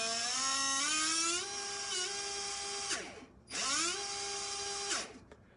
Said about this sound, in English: when I rev the motor